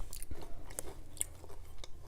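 Crunchy Lay's potato chips being bitten and chewed up close during a mukbang, giving a run of brittle crackling crunches at an uneven chewing rhythm with no talking.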